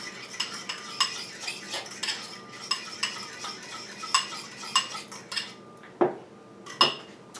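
Metal spoon scraping and clinking against a bowl while cremita sauce is mixed for chile rellenos, a steady run of close, bright taps and scrapes with a few louder knocks near the end.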